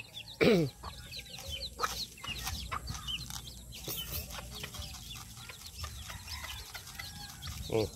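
A flock of backyard chickens clucks busily after being fed grain, with a louder squawk near the start and steady overlapping clucks, calls and scratching close by.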